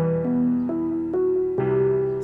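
A piano passes through a low-pass filter that leaves it dark and mellow. A few sustained notes shift pitch in turn, soft-edged and muffled, played alone without voices.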